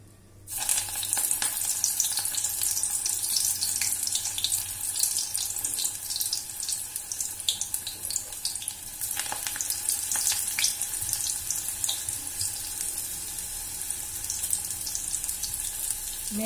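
Fenugreek pakora batter frying in hot oil, a steady, loud bubbling sizzle that runs continuously with no talk over it.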